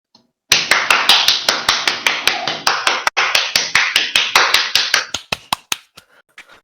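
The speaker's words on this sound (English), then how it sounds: "Clapping is in order." A small group claps in steady, evenly spaced strokes for about four and a half seconds, then the claps thin out and trail off into a few scattered last taps.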